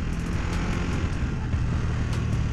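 A 2021 KTM 1290 Super Duke R motorcycle rides with a steady, loud engine roar blended with wind rush, continuous and close throughout.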